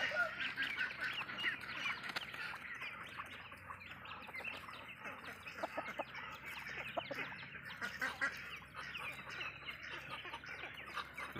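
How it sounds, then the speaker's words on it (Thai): Nakhon Pathom breed ducklings, about a month old, raised on a Thai duck farm, keep up a dense, continuous chorus of peeping and quacking, many birds calling at once from close by without a break. "ก็คือลูกเป็ดพันธุ์นครปฐม"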